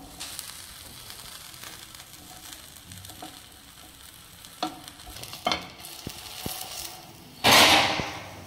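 A snack roasting in a pan over a low flame, giving a soft steady sizzle with occasional stirring scrapes and a louder hissing burst near the end.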